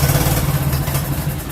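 A small engine on full choke runs rough, a steady loud uneven idle with a low throbbing hum and clatter, heard up close with no talk.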